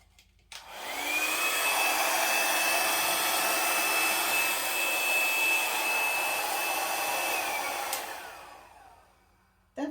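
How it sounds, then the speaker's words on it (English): A steady rush of blown air, loud and continuous for about seven seconds, used to spread and blow out wet acrylic pour paint in Christmas colours for a Dutch pour, starting abruptly and then cutting off. "I think I got to blow that out though."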